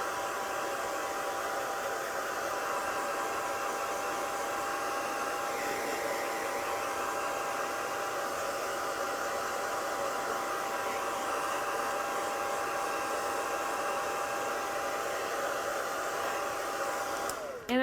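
Hot air blower with a steady, soft whooshing hiss, kept close and running continuously over a letterpress polymer plate, with no talk and only a small change right at the end.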